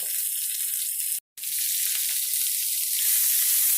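Seasoned food frying in a pan is stirred, a steady bright sizzle with a brief break, continuous and close.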